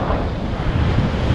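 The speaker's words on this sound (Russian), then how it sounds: "нас тоже сейчас накроет волна" Stormy sea surf at Anapa on a strong-wind day, a continuous loud roar of crashing waves close by with heavy wind buffeting the microphone and no voices.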